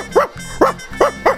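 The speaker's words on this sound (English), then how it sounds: "Oh me, oh my, he barks all day and night." A small dog's bark at a children's TV show sounds four times in a steady rhythm, each a short, close, bright yip-like woof over a low background hum.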